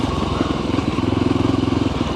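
Voge Rally 300 motorcycle engine droning steadily and close at a low mid pitch while riding over very loose, shaly heavy gravel, with faint crunching and clatter beneath the engine note.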